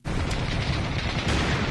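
Dense movie battle barrage of gunfire and explosions as the military blows up giant spiders, a loud, continuous roaring wall of blasts and shots with no pauses.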